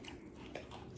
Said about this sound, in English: That's good chewing.